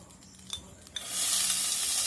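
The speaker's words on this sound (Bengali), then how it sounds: "তেলটা গরম হয়ে গেছে। আমি এবার এর মধ্যে পেঁয়াজ কুচিগুলো ছেড়ে দেব।" Chopped onions, two medium ones, dropped into a little hot oil for Schezwan chicken: a couple of clinks, then a loud steady sizzle bursts up and holds.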